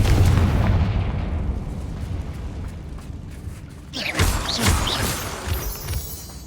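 Hogwarts Legacy spellcasting with Confringo blasting spells: a heavy rumbling blast opens, fades into crackling debris, then a second sharp burst of explosive impacts and magical whooshes follows.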